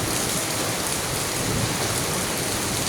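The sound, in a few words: hailstorm with rain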